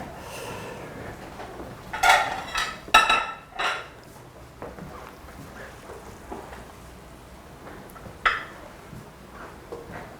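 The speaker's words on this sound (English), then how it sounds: "Bob, I'm going to ask you to spoon out a little bit of risotto on the plates." Risotto is spooned onto plates in a home kitchen, with a cluster of clinks and scrapes of a spoon against crockery early on, then quieter handling and one more sharp clink near the end, with no talk.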